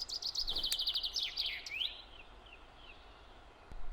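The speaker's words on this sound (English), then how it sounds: "time to feed the birds." Small birds at feeding time chirp in quick, rapid bursts close by, a busy chatter for the first two seconds that thins to a few fainter calls against a quiet outdoor background.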